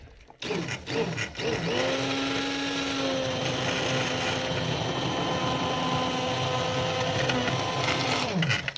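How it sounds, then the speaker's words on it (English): A steady mechanical whir of a stick blender blending ham soup, running continuously for several seconds, close and loud, with a slight pitch drop as it stops. "it is time to get the stick blender out"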